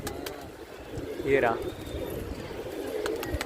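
Pigeons coo softly amid outdoor ambience, with one brief rising call standing out, while someone speaks a few words nearby.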